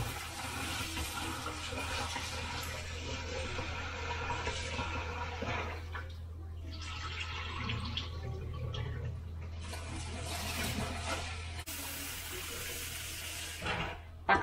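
Black glutinous rice being washed in water: a steady rush of running and sloshing water continues throughout at moderate level, with no voices.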